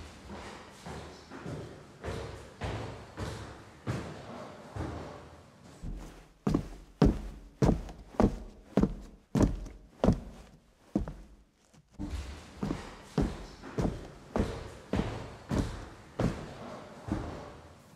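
Film scene foley for post-production: a steady series of heavy thuds and footstep-like impacts, close and punchy, with a brief quieter pause partway through before the rhythmic knocking resumes.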